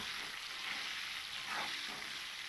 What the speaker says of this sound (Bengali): লবণ দিয়ে এঁচোড়টাকেও কিন্তু আমি খুব ভালো করে একটু ভেজে নেব